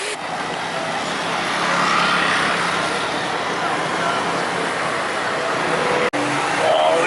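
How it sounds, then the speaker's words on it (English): Road traffic rumbles steadily through a small back alley in Taipei, with cars and heavier vehicles passing nearby, their continuous engine and tyre noise filling the scene. "This little back alley, traffic and everything."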